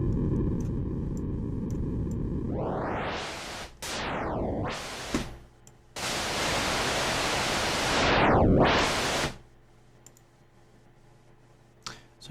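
A MicroBrute synthesizer puts out loud hissing white noise that is swept through a filter, rising and falling in brightness in several long bursts before it cuts to near silence.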